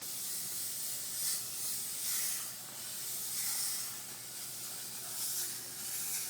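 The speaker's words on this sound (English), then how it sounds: "Got a very nice, smooth spray pattern on this airbrush." A steady, airy hiss of a Badger Anthem airbrush spraying continuously, smooth and even with slight swells in intensity, close by.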